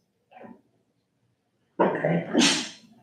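A single loud sneeze bursts out during a meeting vote, a sharp intake rising into an explosive, hissing release, preceded moments earlier by a brief spoken word.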